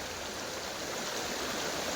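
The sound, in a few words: river water flowing down from the hill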